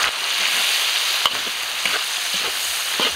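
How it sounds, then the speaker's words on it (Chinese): Pork stir-fried in a hot wok gives a close, continuous sizzle, broken now and then by brief scrapes and clicks as the meat is tossed. "猪肉上的油炒出来以后"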